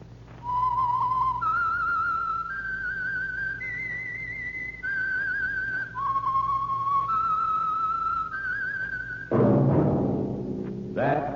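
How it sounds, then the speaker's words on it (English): A lone whistler performs the eerie theme signal of The Whistler radio program, a series of clear sustained notes climbing and dipping in steps, ending as an orchestral chord swells in. "That whistle is your signal for the Signal Oil program, The Whistler."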